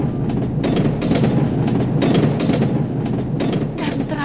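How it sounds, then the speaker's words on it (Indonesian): A train runs along tracks beside a park, its wheels clattering in a steady close rhythm over a continuous rumble, with clicks and faint metallic squeals, and no voices. "Detak roda kereta api yang melintas sepanjang taman tiba-tiba membangunkan Siti dari mimpi."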